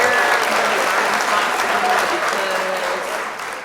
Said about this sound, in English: We give her a round of applause over here